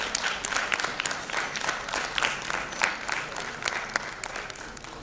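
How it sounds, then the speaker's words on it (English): Audience applauding at the close of a literary festival session, a steady wash of many hands clapping in a hall. "Let the applause continue."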